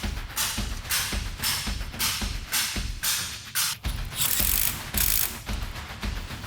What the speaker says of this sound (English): the properly gapped NGK spark plugs are installed